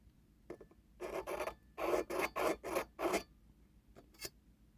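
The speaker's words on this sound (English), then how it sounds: "I'm going to attempt to scribe a line along the spine here" Scribe scratching a line along the spine of a handmade slip joint knife blade: a handful of short, quiet scraping strokes in an uneven rhythm, up close.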